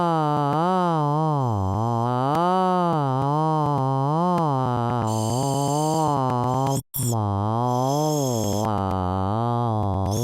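A synthesized vocal gesture called a knurtle, a buzzy, voice-like tone that swoops and wobbles in pitch with a brief gap near the end, steady and close with no speech.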